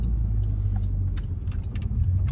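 Porsche car pulling over to the roadside, heard from inside as a steady low engine and road rumble with light clicks and rustles, no talking.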